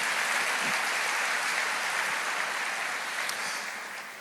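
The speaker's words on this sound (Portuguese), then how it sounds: "Pode aplaudir." A church congregation breaks into applause, a thick, even roar of many hands clapping that holds steady and then eases slightly toward the end.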